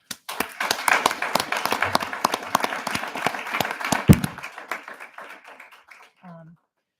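A small audience at a Board of Education meeting gives scattered applause, individual claps distinct and fairly close, thinning out and fading over several seconds before stopping.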